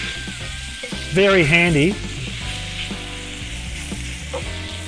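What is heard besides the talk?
General Tso's chicken stir-frying on induction hob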